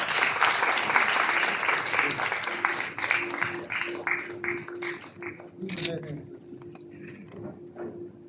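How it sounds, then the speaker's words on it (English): An indoor audience at a lamp lighting ceremony claps in a loud round of applause that thins into scattered claps, with voices talking over the end. "I request everyone to begin the lamp lighting with a huge round of applause."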